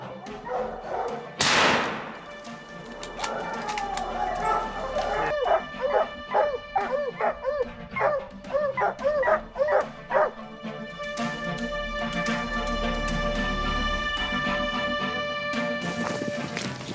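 Hunting dogs bark in rapid, excited bursts during a wild boar hunt outdoors, with yips and whimpers mixed in. A loud sharp crack comes near the start, and a steady rumble sits underneath.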